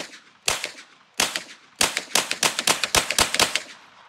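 Rapid gunshots from several guns fired at cars outdoors: two single cracks, then a dense run of about a dozen loud, sharp reports in quick uneven succession, with no voices.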